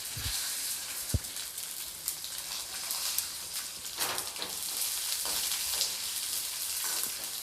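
Curry leaves dropped into hot oil crackle and sizzle steadily in a pan, a dense hiss with a few sharp pops and clinks, moderately loud and free of talk.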